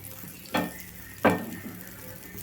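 Butter sizzles in a hot pan on a stove, a soft steady frying hiss with two louder scraping stirs as it is spread around, close up and without talk.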